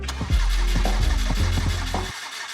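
Subaru WRX STI built to around 500 horsepower on E85, heard cranking with a rapid rhythmic starter churn for about two seconds before the engine catches, loud and close, then cutting off abruptly.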